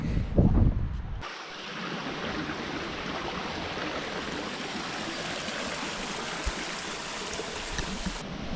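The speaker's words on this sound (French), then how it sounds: "Là-bas, il y a la cascade." Waterfall on Réunion Island roaring as a steady, dense rush of falling water, heard from a short distance after a brief rustle at the start.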